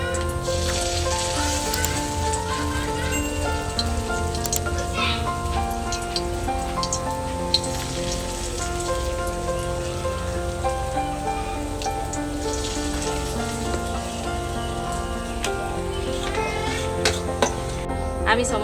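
Egg and tomato pakoras deep-fry in hot oil with a steady, dense sizzling crackle like rain that runs throughout, mostly alone and fairly loud, with background music.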